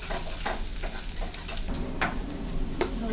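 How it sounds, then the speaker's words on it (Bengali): Cinnamon and other whole spices fry in hot white oil, giving a steady crackling sizzle with soft scraping stir strokes and a few sharper pops, close and with no talking. "মশলা দারচিনি সব কিছু দিয়ে দিতেছি। সাদা তেল বাইগা নেব সুন্দর করে।"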